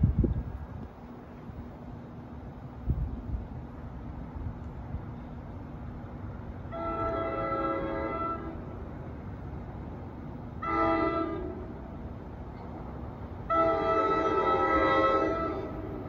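An NJ Transit diesel train sounds its horn in three separate blasts, the last one longest. The horn is moderately distant and rings over a steady low rumble.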